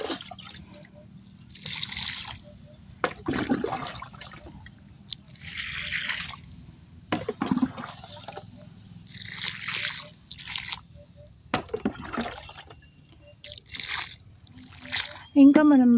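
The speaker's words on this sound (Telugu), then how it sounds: "ఇప్పుడు వాటర్ వేసుకోవాలి." Water is poured onto the soil around a potted guava plant in repeated splashing and trickling bursts, close by, alternating with a person talking.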